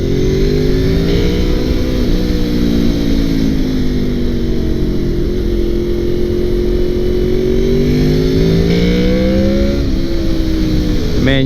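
A 2002 Honda VFR800 motorcycle engine revving while riding, its pitch rising and falling through repeated throttle runs as the VTEC switches over, loud and close and continuous.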